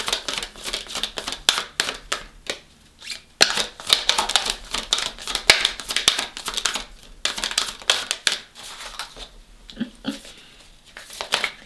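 Tarot cards shuffled by hand, a close rapid run of papery flicks and riffles in irregular bursts with short pauses between, crisp and fairly loud with no talk.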